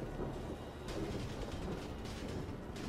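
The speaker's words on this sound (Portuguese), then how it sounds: "Isso aí só foi a tempestade." A thunderstorm pounds the city of Los Santos in GTA 5, with a dense, continuous roar of rain and rumbling thunder and a few brighter crashing bursts, loud and unbroken with no talk.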